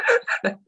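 A short human sneeze in two or three quick bursts, close and fairly loud, heard during an interview conversation.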